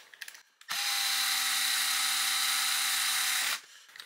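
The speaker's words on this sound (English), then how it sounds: "so we're going to see if we can run it down with the drill." A power drill drives a link into a Vanquish VS4-10 RC crawler chassis from a builder's kit, giving one loud, steady whine that holds for about three seconds alone and then cuts off.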